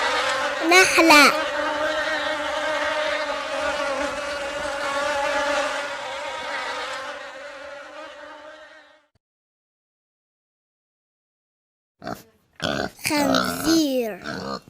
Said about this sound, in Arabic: نحلة.